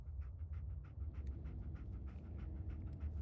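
Rapid, rhythmic panting from Dogmeat, the dog companion in Fallout 4, breathing in short even bursts close by, set over a constant low background drone with no speech.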